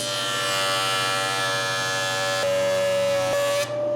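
A jointer face-joints a hardwood board, making a loud steady mechanical whine and buzz with faint knocks near the end before the cutter cuts off abruptly.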